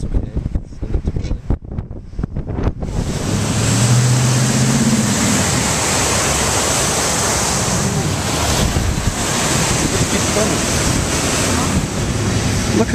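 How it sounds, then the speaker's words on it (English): Floodwater rushes down a street after a storm that brought tornadoes, lightning and flooding, a loud, steady broadband roar that holds for most of the clip, with wind buffeting the microphone and some brief handling noise at the start. "Look at how much water is still coming down the street."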